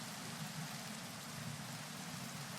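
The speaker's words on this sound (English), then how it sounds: "there goes the rain" Rain falling in the Minecraft video game, a soft, steady hiss of rainfall that stays faint and even throughout, with no voices over it.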